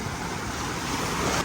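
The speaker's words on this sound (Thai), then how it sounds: "โอ้ฟังคลื่นตอนเช้านี้ฟินสุดแล้วแหละแบบ" Morning ocean surf on a beach in Da Nang, a steady broadband wash of breaking waves with some wind, continuous and moderately distant.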